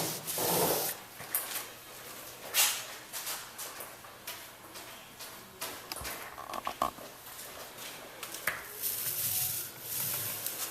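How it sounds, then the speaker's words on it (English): Bottom paint being worked onto the hull of a 1954 Penn Yan Captivator Aristocrat wooden boat, heard as close, irregular brushing and rubbing strokes with scattered soft knocks. The strokes continue steadily, with no talking. "once Joe has finished applying the bottom paint"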